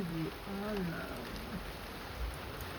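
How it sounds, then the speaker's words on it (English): Steady rain falls in Jamaica, hissing evenly throughout, with a faint tonal warble early on and a soft low thump near the end. "listen to some of the ASMR rain sounds"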